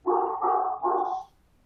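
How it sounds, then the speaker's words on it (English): A dog barks three times in quick succession, close and fairly loud, with a faint high whine at the end and no talking. "my dog's making a cameo right now"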